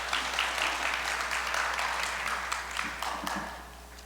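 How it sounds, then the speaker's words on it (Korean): Steady clapping from a crowd fills the whole stretch, dense and even, fading slightly toward the end. "따뜻한 박수로 맞이해 주시기 바랍니다"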